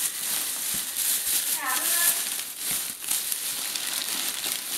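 Plastic bags crinkling as reborn doll kits are unpacked from a box, a constant soft rustle and crackle close by, with a brief squeaky twist partway through.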